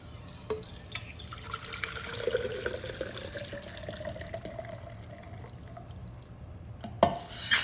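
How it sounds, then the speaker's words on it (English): A cocktail pours and trickles from a shaker into a glass, a soft continuous stream with small drips and a clink near the end, fairly quiet and close. "And then I will pour it into my glass."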